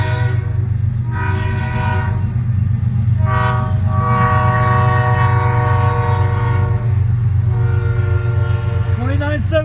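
CN freight train 3311, southbound on M356 at Ladysmith, Wisconsin, rumbles in loud and near with a heavy low engine drone while its chorded horn blows several long blasts over the steady roar.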